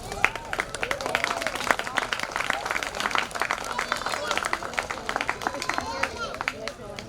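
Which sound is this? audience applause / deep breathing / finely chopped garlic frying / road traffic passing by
audience applause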